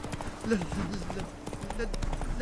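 Horse hooves trot in The Witcher 3, a steady clip-clop rhythm running through the whole stretch under game sounds and a voice talking over it.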